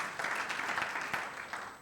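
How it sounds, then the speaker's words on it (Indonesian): A church congregation at a Sunday worship service applauds, a soft, distant patter of many hands with a few sharper claps standing out, gradually tapering toward the end. "Berikan dong tepuk tangan bagi Tuhan Yesus"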